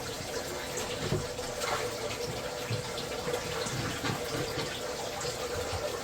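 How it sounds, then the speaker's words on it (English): Aquarium water and gunk from a shrimp tank pour through a fine mesh shrimp net, a steady close splashing and trickling that runs throughout with small surges. "we're going to dump our gunk through the net"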